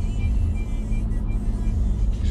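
A car ahead of a Lamborghini Urus gives off a steady low engine rumble and road drone, heard from inside a moving vehicle. It is continuous and fairly close, with no distinct revs or talking.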